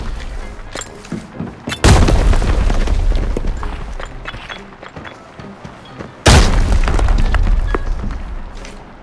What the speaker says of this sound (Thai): แล้วมันก็โยนระเบิดมา